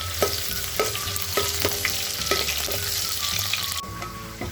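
Steady oil sizzling as chopped ginger and garlic sauté, with a few sharp stirring scrapes at a regular pace, close and fairly quiet, no voices.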